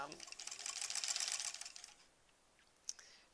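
A sewing machine runs a short fast burst of stitching on a fabric bunny stuffed toy, a brief back tack, close and quiet, then stops with a small click.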